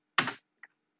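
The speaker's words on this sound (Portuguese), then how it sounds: "vocês viram que eu só fui digitando" Typing on a computer keyboard while building a calculated column in Power Query: a quick burst of clustered keystrokes near the start, then two isolated faint key taps, with no talking.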